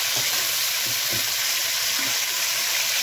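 Sliced pork heart fries in a pan with a loud, continuous close-up sizzle and crackle, occasional stirring shuffles underneath, and no talking.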